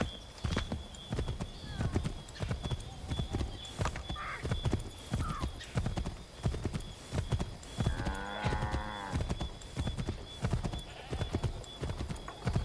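Horses galloping in Assassin's Creed III, a fast steady clip-clop of hooves throughout, with a brief horse whinny partway through and a faint voice now and then.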